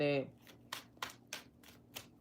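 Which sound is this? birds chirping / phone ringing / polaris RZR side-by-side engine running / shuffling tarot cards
shuffling tarot cards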